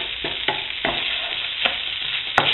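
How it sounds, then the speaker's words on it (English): Rice being stirred through a garlic and tomato mixture in a pan for Spanish arroz al horno, giving a steady scraping, sizzling wash with a few louder scrapes of the spoon, close and without talk. "I'm going to mix this all up, coat the rice and all this lovely garlic and tomato mixture"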